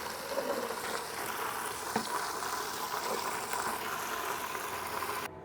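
Water runs steadily into a rinse bucket for a two-bucket car wash, a faint, continuous splashing rush with a brief knock partway through and no talk.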